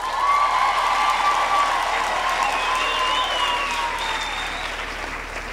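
A graduation ceremony audience gives the choir a long round of steady, dense applause. The clapping fills the hall and slowly fades toward the end.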